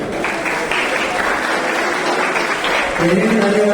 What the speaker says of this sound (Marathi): त्यांच्यासाठी जोरदार टाळ्या उमटवल्या.